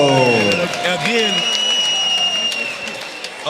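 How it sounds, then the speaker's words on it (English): A crowd at a bare-knuckle fighting event applauds and cheers after a bout, with whistles rising over the clapping and a voice speaking over the noise. "a great applause for both guys"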